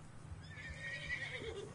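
A horse in the video game Red Dead Redemption 2 gives one drawn-out whinny, fairly faint and set against a low rumbling game backdrop, with no voices.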